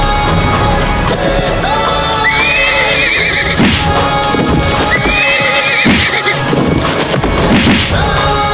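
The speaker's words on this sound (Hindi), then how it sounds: "ये पागल घोड़ा यहाँ क्या कर रहा है?" A horse neighs loudly twice in rising whinnies amid heavy clip-clopping hooves and crashing thuds, set in a dramatic historical battle scene with a dense, busy backdrop.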